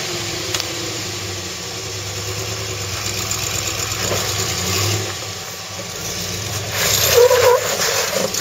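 A car engine idles and revs in a steady mid-pitched drone, swelling louder toward the end with a brief squeal.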